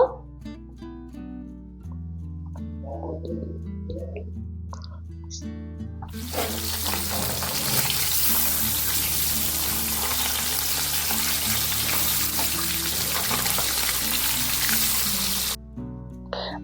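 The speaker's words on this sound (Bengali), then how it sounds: "তেলটা গরম হয়ে আসলে লবণ, হলুদ ও সামান্য কাঁচা তেল দিয়ে মাখিয়ে নেওয়া মাছগুলোকে একে একে ভেজে নেব" Pabda fish frying in hot mustard oil, a loud steady sizzle that swells after a few seconds and holds before cutting off, over a low background hum; no talk.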